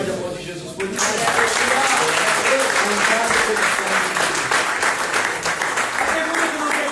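Church congregation applauding loudly and steadily, a dense roar of clapping with cheers that rises sharply after a brief opening and holds full for several seconds.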